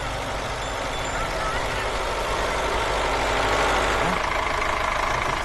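A tractor engine idles in a steady, rumbling drone that continues for the whole stretch, with a voice faintly present underneath.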